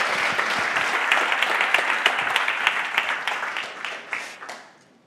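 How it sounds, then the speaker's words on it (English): A conference audience gives a warm welcome to a speaker with a steady wash of clapping, individual claps popping out as it gradually thins and dies away. "So please give a warm round of applause for Ben."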